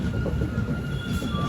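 The Rajahmundry to Vijayawada MEMU passenger train rolls along steadily, its wheels giving a dense low rumble on the rails with a thin high squeal, close and continuous.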